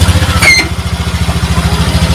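Motorcycle engine idling steadily up close, a dense rhythmic low putter throughout, with a brief higher whine near the start.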